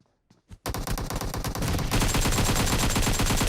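AKM gunfire in the video game PUBG Mobile: a few isolated shots, then rapid automatic bursts that swell into continuous loud fire for the rest of the clip, with no talk.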